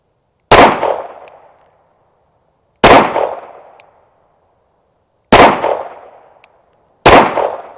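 Four loud, sharp pistol shots fired by a shooter wearing gloves, a compensated Sig handgun, each crack followed by a short ringing decay with faint metallic clinks, spaced a few seconds apart outdoors.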